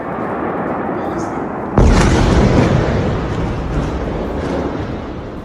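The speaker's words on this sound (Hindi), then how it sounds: "तेल अवीव का अंदर ईरान का ताबड़तोड़ मिसाइल अटैक।" Missile strike explosion in Tel Aviv news footage, a sudden loud boom bursting out of rumbling background noise and decaying into a long roaring wash.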